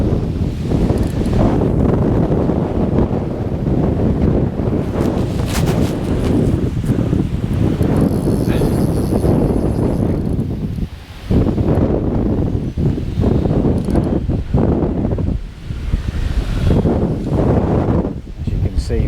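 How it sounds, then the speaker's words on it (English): Strong, gusting wind buffets the microphone at a fishing lake during a live match fishing session, a dense continuous roar with brief lulls, and people talk over it. "And it's really, really strong, this wind"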